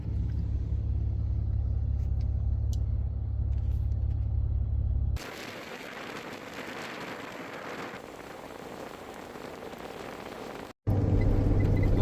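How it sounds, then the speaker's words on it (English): A vehicle drives along an outback dirt road in Cape York with a steady low rumble, then a louder, gritty wash of tyres and engine noise swells as it passes close by. No one speaks. "we got a vehicle coming, so we'll get in the car before the dust goes"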